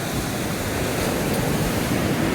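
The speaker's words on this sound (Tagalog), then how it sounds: "dito tayo sa dagat" Sea waves washing onto a Philippine fishing shore, a steady loud roar of surf with breezy wind noise filling the whole stretch, no voices.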